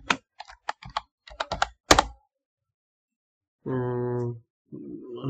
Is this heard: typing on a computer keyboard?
yes